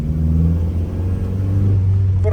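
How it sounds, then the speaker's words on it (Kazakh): A steady, loud engine drone and low rumble come from inside a Chinese-assembled car with a Toyota Corolla 1.8 engine as it drives, a smooth continuous hum with no talk. "мен айдап жүрген машинамның моторы Toyotаның моторы"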